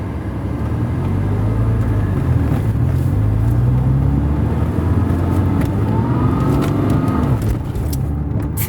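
Manual-transmission car engine revving steadily, with its pitch rising and falling, as a learner driver practises working the clutch and gas. The engine sound is loud, close and continuous, with no talking.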